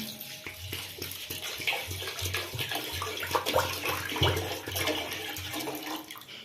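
Water pours into a cooking pot holding washed, soaked rice and an onion, a litre and a half added for rice pudding; a continuous close splashing gush that runs steadily throughout.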